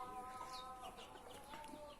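Chickens of several breeds, including fighting birds and young chicks, cluck steadily in a crowded coop, with overlapping calls close by and no talking.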